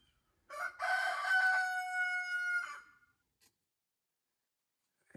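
A rooster crows once in a backyard flock of standard-bred chickens, a loud, clear, drawn-out call lasting about two seconds, followed by near silence with a faint knock.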